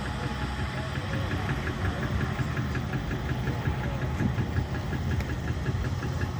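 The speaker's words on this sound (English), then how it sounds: "ask Ben to bring the combine right up close" A Claas combine harvester's engine idles steadily at a harvesting demonstration at an agricultural show, giving a continuous, fairly loud mid-pitched rumble with a faint knocking pulse throughout.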